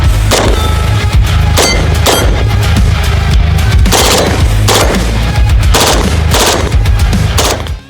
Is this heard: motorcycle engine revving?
no